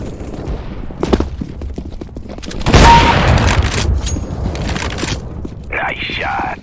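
CS:GO team deathmatch gunfire on the Vertigo map: scattered rifle cracks, then a loud burst of rapid fire mid-clip that trails off into more distant shots, with a short synthetic tone near the end.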